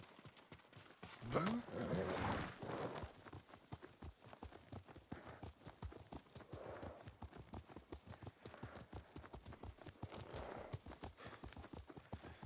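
Horse hooves clip-clop at a steady gallop during horseback riding in the video game Ghost of Tsushima, with a brief whinny near the start and continuous rhythmic footfalls throughout.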